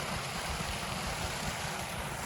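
Waterfall on a hiking trail above a small swimming hole, a steady broadband rush of falling water close by, continuous and fairly loud with no voices.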